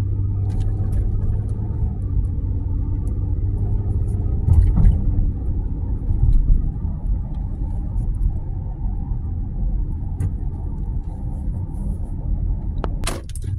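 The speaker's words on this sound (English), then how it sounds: "now I'm just driving down the street." Cabin rumble of a car driving down a street, heard from inside: a steady low drone throughout, with a few faint clicks and knocks scattered over it and no talking.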